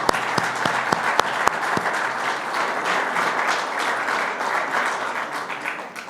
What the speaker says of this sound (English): if you would like to applaud them